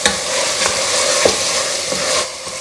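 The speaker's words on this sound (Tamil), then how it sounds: "புதினா கொத்தமல்லி எல்லாம் இந்த அளவுக்கு வதக்கினா போதுங்க" Mint and coriander sautéing in a pan for tomato rice, a steady close sizzle with spatula scrapes and stirring knocks throughout, no voices.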